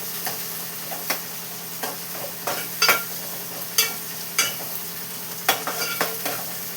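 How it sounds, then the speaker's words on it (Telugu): Food fries in a pan with a steady, soft sizzle, broken by sharp clicks and scrapes of stirring at irregular intervals. No voices are heard. "ఇలా వేసాము, ఇలా వేగుతూ ఉంటాయి"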